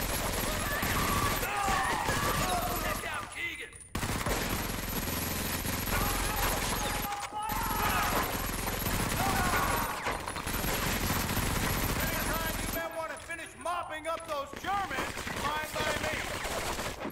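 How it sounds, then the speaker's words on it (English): Machine gun fire in Medal of Honor: Vanguard, long loud continuous bursts with brief pauses, dense rattling over battlefield noise, with voices talking beneath. "I want to get on the machine gun"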